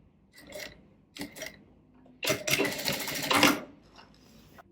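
A sewing machine finishing a seam across two fabric layers at a sleeve hem with a mitered slit, running in short bursts and then one longer stitching run, close and clear with no voices.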